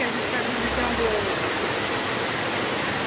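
Waterfall at Cachoeira do Pilão in Ibicoara, Bahia, a steady, loud broadband rush of falling water that fills the whole clip without a break.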